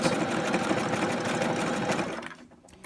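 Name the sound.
sewing machine stitching tote bag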